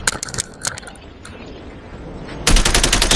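Rapid bursts of automatic gunfire in a multiplayer battleground shooter game, loud clustered shots at the start, a quieter lull, then a sustained dense volley at the end.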